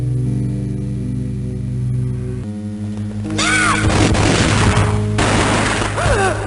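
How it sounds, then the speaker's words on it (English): A gunshot booms in the Game Boy Advance version of the video game Max Payne, a loud burst over a droning music bed, followed by crashing noise and a second sharp hit near the end. "A gunshot boomed and she fell down in slow motion."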